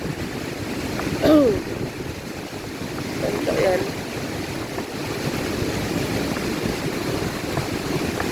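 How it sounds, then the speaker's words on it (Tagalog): Rough sea surf rolls onto a beach during Typhoon Kristine, with waves and wind rumbling steadily and a few brief voices shouting over the din. "galit na galit ang dagat"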